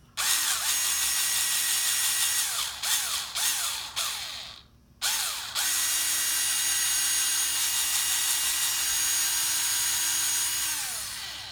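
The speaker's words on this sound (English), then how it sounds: "Make sure you don't drill your fingers." Power drill fitted with a 1/8 inch bit boring a hole into a plastic RC police car body, a loud close steady whine broken by brief stops and restarts midway, then one long sustained run.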